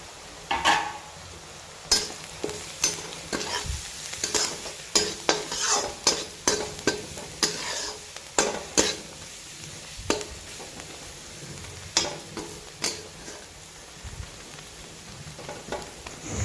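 Spice tempering with fenugreek, turmeric and salt sizzling in a pan while a spoon stirs it, steady frying hiss broken by repeated scraping and clinking strokes, close and alone.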